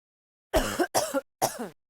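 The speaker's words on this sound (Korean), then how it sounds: "기침을 할 때에는 휴지나 손수건은 필수입니다" Three short coughs, two close together and then a third after a pause, from an animated public-health message on cough etiquette, with no talk over them.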